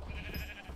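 A short bleat from a Minecraft sheep, a brief nasal cry under a little background game noise, heard up close.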